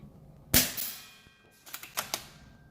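A few airsoft test shots from an Ares Stryker AS02 rifle outdoors: one sharp snap followed by a decaying ring, then a quick cluster of lighter clicks and pops a second later, fairly close and with no talking.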